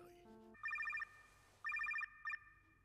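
An anime phone rings in rapid trilling bursts of bright electronic tones, one long burst, a pause, then a second long burst and a short third, after a brief lower-pitched tone at the start, heard against quiet background hum.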